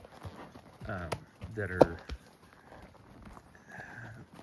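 A horse walks up a snowy trail in Colorado, its hooves landing in soft, uneven thuds and clops up close, while a person talks over the steps.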